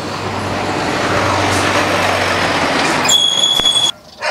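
Trucks on a residential street, a loud close engine rumble with traffic noise and a hissing air brake release, cut off abruptly near the end.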